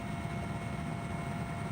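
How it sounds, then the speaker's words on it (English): A 20-year-old Russian helicopter in flight, chartered by the United Nations over Darfur, gives a steady, dense engine and rotor roar that holds at an even level throughout with no voices. "Our delegation is flown to rebel territory in a 20-year-old Russian helicopter chartered by the United"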